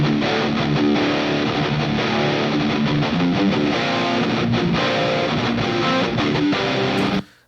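Distorted electric guitar rhythm playing through Archetype Plini amp simulator patches, with dense chugging chords at a loud, constant level that stop abruptly at the end, heard alone with no voices.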